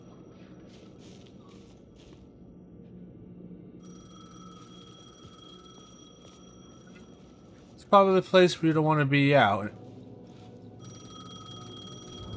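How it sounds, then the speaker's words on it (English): Payphone in the video game Alan Wake 2 ringing in a burst of rapid electronic bell trills over a low ambient hum, with a voice speaking earlier. "The payphone was ringing."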